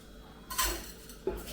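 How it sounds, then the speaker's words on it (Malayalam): Two quick metallic clinks as washed rice and lentils go into a pressure cooker, the first at about half a second and the second shortly after, faint and close with no voice. "ഇനി നമുക്ക് ഇതിനെ കുക്കറിനകത്തേക്ക് ഇട്ട് കൊടുക്കാം"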